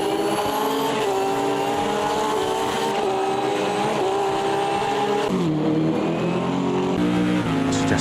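Porsche GT3 race cars battling in the sim racing game AMS2 at Termas de Río Hondo, engines droning loudly and continuously with shifting pitch as they rise and drop through gears, no talk.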